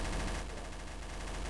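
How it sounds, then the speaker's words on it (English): Rapid automatic gunfire in the Trouble in Terrorist Town game, a dense continuous burst of shots lasting the whole moment at steady loudness with no talk over it. "Ouch, somebody shooting me."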